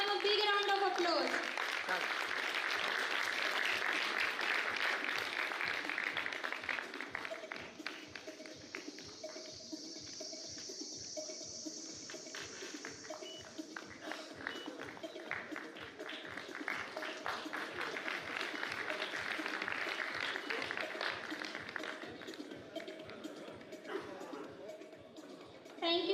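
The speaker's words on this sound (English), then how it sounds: "Let's give them a big round of applause." An audience at an awards-style meet claps in a long, rhythmic round of applause with evenly spaced beats, running alongside background voices and other room sound.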